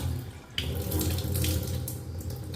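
Split moong dal being rinsed in water for rasam, with tap water running steadily into a vessel or sink close by, a constant splashing wash throughout without speech.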